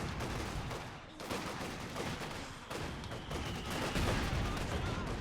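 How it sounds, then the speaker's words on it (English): In a Company of Heroes 2 match, German mortar rounds and battlefield gunfire crackle and thump continuously in a dense game mix, with a few louder bursts and a faint voice underneath. "it's a German mortar instead dropping rounds over here in the backfield"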